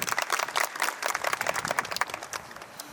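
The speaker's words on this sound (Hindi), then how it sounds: "इसके लिए तालियां।" An audience at a retirement ceremony claps in a dense, lively burst of close, sharp hand claps that gradually thins and softens toward the end.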